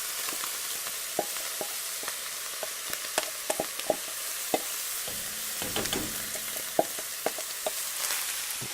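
Vegetables frying and sizzling in a tablespoon or two of leftover meat fat while being stirred, a steady close hiss with scattered scrapes and clicks of the spoon against the pan throughout.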